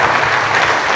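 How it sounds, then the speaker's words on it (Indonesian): An audience applauding at a formal dialogue session with police officer students, dense loud clapping from a crowd filling the whole moment without pause. "Kita berikan tepuk tangan kepada kami."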